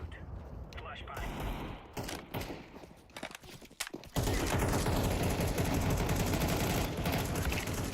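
Counter-Strike decoy grenade sputters out bursts of fake gunfire in a match, rapid dense shots filling the second half loudly after scattered footsteps and movement earlier, with a voice briefly talking.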